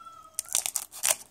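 A cat gives a short meow near a card booster box opening, followed by crinkling and tearing of foil packs, brief and close.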